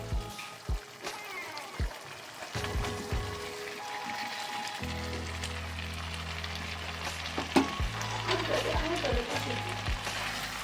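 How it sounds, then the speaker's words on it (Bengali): Fried potatoes are sautéed in a pan for aloo dum. A few sharp knocks come first, then a continuous sizzle with a low hum, broken by scattered clinks and scrapes of stirring. "ভালো করে কষিয়ে নেব আলুগুলো দিয়েছি একটু ভালো করে কষিয়ে নেব"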